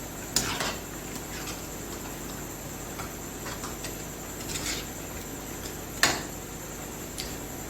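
Beef haleem being stirred in a pot, a faint scraping background broken by a few sharp clinks of a utensil against the pot, the loudest near the start and toward the end.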